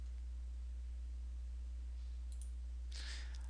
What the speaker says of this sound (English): Right click on that and you click on Stop